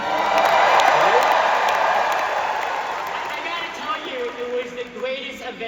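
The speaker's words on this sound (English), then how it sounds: "by the sounds of the crowd, we have some fans here" A large convention crowd at D23 in Anaheim cheers and applauds for Indiana Jones, loud and dense at first, then thinning as a voice begins speaking over the fading clapping.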